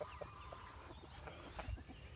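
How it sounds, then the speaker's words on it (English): A rooster clucks in short, repeated bursts close by, with soft rustling and low background noise between calls. "You're such a cool rooster, Mr. Colonel."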